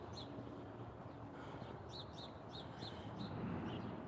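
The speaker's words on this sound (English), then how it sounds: "Lots of birds are singing. Hear them from all directions." Birds chirp and call in short repeated notes over a quiet outdoor background, some closer and some farther off.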